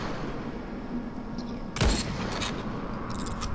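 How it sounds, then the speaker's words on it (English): A golden shotgun fires in the video game Dying Light: one sharp, loud blast followed by fainter mechanical clicks and handling noises against a low background hum. "Then there's also the shotgun."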